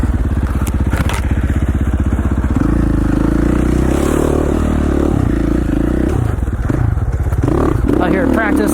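A dirt bike engine buzzes loud and close while riding in the desert near Hagerman, Idaho, a steady droning rev that shifts pitch as it accelerates, with wind noise throughout.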